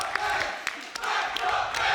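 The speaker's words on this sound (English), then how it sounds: "the crowd is also chanting for him right now as he's down" A crowd at a live tournament event chants and cheers for a player, a dense wall of many voices with rhythmic surges and scattered whoops and claps.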